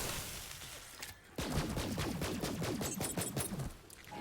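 The Sellout legendary pistol fires in Borderlands 3, rapid repeated gunshots in a quick burst, loud and close over game ambience.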